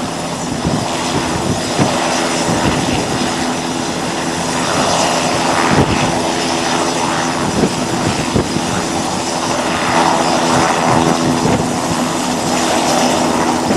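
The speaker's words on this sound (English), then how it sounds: "Helicopter is cranking up for takeoff with the owners auditing safety superintendent on board going back ashore." A helicopter on a ship's deck spins up its engine for takeoff, a loud, steady turbine roar with rhythmic rotor chop throughout, no talk.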